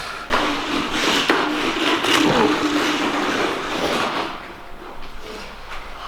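Car engine in a racing video game, revving and droning under continuous play, easing off toward the end.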